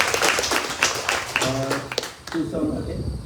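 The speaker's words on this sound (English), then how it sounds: "Let's give them another round of applause." Crowd applause at a Skanda Sasti temple gathering at Siva Soobramooniar Kovil, a burst of clapping that fades into a brief tonal sound and resumes, with voices mixed in.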